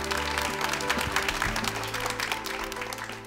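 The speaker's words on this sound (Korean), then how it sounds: "다시 한번 큰 박수 부탁드립니다." Audience applause at the final of the Korean idol audition show YG Treasure Box: a dense, steady clapping crowd that tapers off slightly toward the end.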